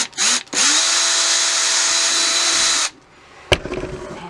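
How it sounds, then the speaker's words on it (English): Power drill boring a hole at an angle into a model horse's tail armature, a steady high whine for about two seconds after a couple of short starts, then a brief clack. "I'm gonna put the drill in at a little bit of an angle"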